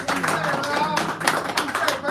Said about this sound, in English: Give Rob a round of applause